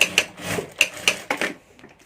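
A sewing machine stitching a handle onto a handmade hand bag, with short bursts of rapid mechanical clatter separated by brief pauses, close and fairly quiet.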